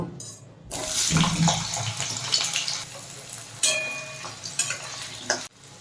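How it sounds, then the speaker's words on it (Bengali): Carrots frying in a pan of oil while cooking vegetables for shukto, a steady sizzling hiss with some stirring clatter, fairly close and continuous, no talking. "এবার গাজরটা ভেজে নেব"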